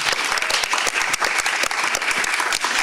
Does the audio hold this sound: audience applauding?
yes